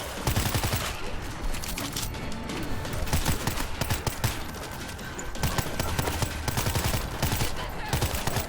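Rapid gunfire in the co-op zombie shooter World War Z, dense bursts of automatic shots and single cracks repeating close and loud, with players' voices mixed in.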